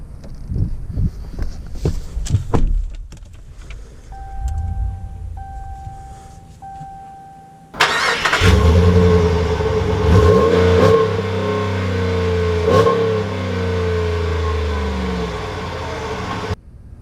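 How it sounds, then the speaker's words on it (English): A 2020 Ram 1500 Rebel pickup with the Rebel 12 package starts after some quiet interior clicks and chimes, then its engine rumbles and revs steadily as the truck drives off, loud and close from inside the cab. "let's take this new 2020 Rebel 12 out to see if it drives any differently"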